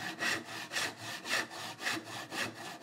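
A small dovetail saw cuts into wood along knife walls with rhythmic back-and-forth rasping strokes, six or seven evenly spaced, close and fairly quiet, with no talk.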